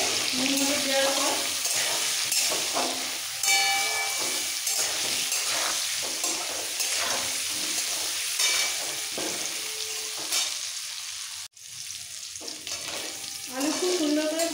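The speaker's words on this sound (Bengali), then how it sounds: "আলু খুব সুন্দর করে ভাজা হয়ে গেছে" Potato pieces frying in oil with turmeric and salt, a continuous close sizzle broken by scraping stirs and clattering, with a brief near-silent dip before the frying hiss returns.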